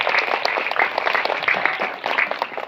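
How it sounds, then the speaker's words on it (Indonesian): Audience of students at a Maulid Nabi celebration in an Islamic boarding school applauds, dense close clapping with uneven loudness across the whole stretch, no talk. "Tepuk tangan untuk kita semua."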